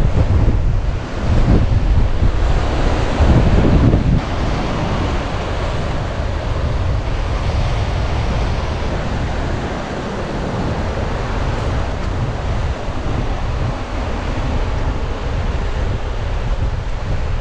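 Waves surge against the shore at an ancient harbour site in Datça while strong wind buffets the microphone, a loud, continuous roaring rush with heavier gusts and crashes in the first few seconds.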